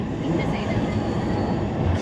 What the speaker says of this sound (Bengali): দেখো ট্রেনে উঠে পড়েছি কন্যাকুমারীর উদ্দেশ্যে